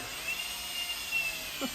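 A high, steady whine of a power drill running continuously, with slight rises in pitch, alone with no talking.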